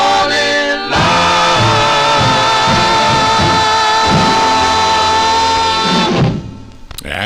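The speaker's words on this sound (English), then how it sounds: "That's the sound of Louis Lyman and the Teen Chords" A 1957 doo-wop record by Lewis Lymon and the Teenchords on the Fury label plays loudly for about six seconds with vocals and band, then fades into a brief quieter tail.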